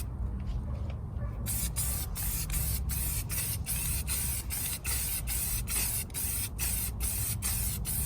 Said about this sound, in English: grab your primer and give it a light coat on it as your first coat. Give it light sprays just like so.